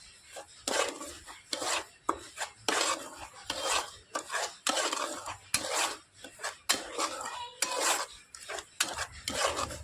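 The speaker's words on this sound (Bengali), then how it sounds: "নাড়াচাড়া করে সবকিছু একটু ভাজা ভাজা করে নেব।" Semolina and flour are stirred and roasted in a pan, a spatula scraping and rasping against the metal in repeated short strokes with brief pauses between, close and moderately loud, with no talking.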